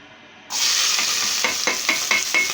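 Sliced onions and green chillies dropped into hot oil for a goat-head curry burst into a loud, sudden sizzle that holds steady, with several sharp scraping stirs of a spatula near the end.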